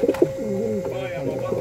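A pigeon coos in a series of soft, throaty warbling calls, close by and steady throughout, with brief chatter and a voice mixed in near the start, at a pigeon loft.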